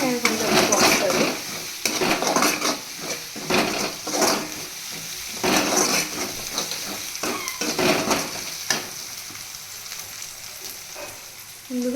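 Onions frying in a pan with ginger-garlic paste until brown, a steady close sizzle with repeated scraping strokes of a stirring spoon against the pan.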